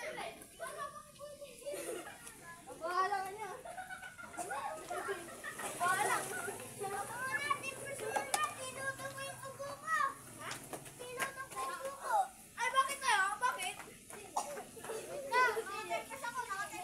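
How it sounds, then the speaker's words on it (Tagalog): Children play nearby in a Filipino home neighbourhood, with many high chattering and shrieking voices and bursts of laughter overlapping continuously throughout, moderately near. "May mga bata naglalaro dito sa amin."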